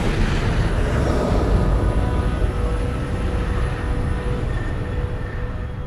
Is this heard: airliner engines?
yes